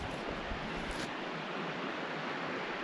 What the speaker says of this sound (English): And listen to that water running.